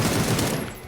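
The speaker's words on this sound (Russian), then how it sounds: "какой мощный выстрел. Вы видели этот очередь?" A short burst of automatic gunfire from a PUBG tournament match: a dense, loud, continuous rattle of rapid shots that fades slightly at the tail.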